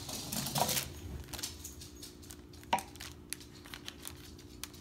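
Knife cutting through a pan of homemade keto peanut butter fudge in rows, giving soft scraping and crinkling with a few sharper taps as the blade meets the pan, close and fairly quiet with no talking.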